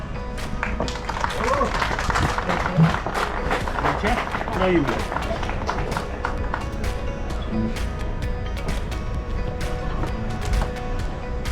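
At a Polish harvest festival bread ceremony, a crowd claps steadily in dense, scattered applause, with voices talking over it at first.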